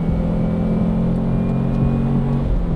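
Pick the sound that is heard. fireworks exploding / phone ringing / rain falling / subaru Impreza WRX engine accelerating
subaru Impreza WRX engine accelerating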